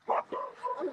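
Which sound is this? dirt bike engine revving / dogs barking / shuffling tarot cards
dogs barking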